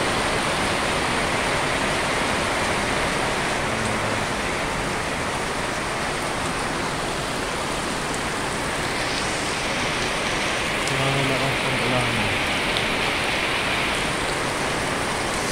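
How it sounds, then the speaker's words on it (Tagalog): Heavy, steady rain roars without a break during a flooding downpour, a dense wash of noise with no voices throughout. "Grabe ang ulan, guys."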